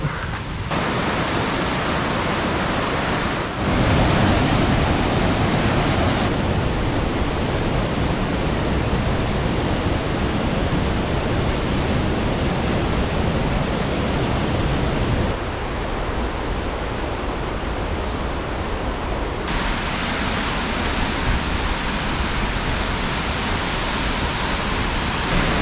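Waterfall in the Dolomites roaring with a dense, constant rush of falling water, loud and close, its broad hiss shifting in tone as the listening position changes, with no voices.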